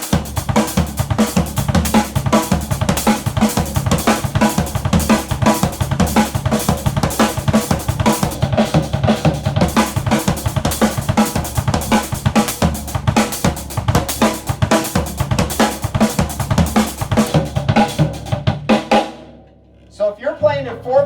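A drum kit plays a fast, loud sweep fill with dense hits across floor tom, snare, hi-hat and bass drum, running steadily before a brief pause near the end.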